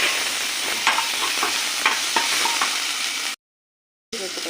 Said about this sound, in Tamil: அதில் நம்ம வந்து வெங்காயம் சேர்த்து வதக்கிக்கலாம்